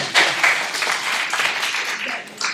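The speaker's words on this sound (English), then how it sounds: "A clap for our volunteer, please." An audience claps for a volunteer at a talk on mental health and disability, a short burst of moderate, steady applause that thins out after a couple of seconds.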